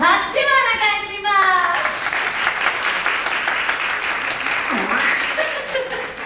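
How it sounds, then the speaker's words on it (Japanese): A crowd at a Mickey and company live show claps for a character chef after dinner, the applause rising and holding for several seconds while a voice and some chuckles come through over it. "素晴らしいグレイチェフ、どうぞ拍手をお願いします"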